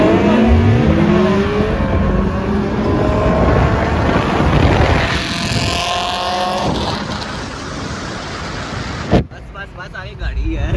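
A K24-engined race car pulls away on a track at night, its engine note rising loud and close, then easing as it moves off; people talk over the roar, and a sharp bang lands near the end.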